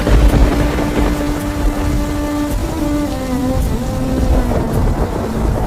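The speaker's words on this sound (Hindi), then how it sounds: "सुबह सुबह तेज बारिश हो रही थी, चारों तरफ पानी ही पानी था।" Heavy rain pours down steadily with thunder rumbling through a storm, a dense continuous wash of water noise that stays loud throughout, with no voices.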